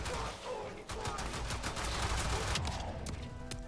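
Enemies firing at the player in Warframe, with a steady crackle of overlapping gunshots and automatic bursts that continue throughout, fairly close but moderate in level.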